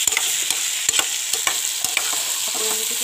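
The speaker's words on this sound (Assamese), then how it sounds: "এয়া মই ভালকৈ লৰাই লৈছোঁ মিক্স কৰি লৈছোঁ চব্জিটো" A spatula stirs bottle gourd peel and baby potatoes frying in a pan, with repeated sharp scraping strokes over a constant bright sizzle of oil, close and loud, with no one talking.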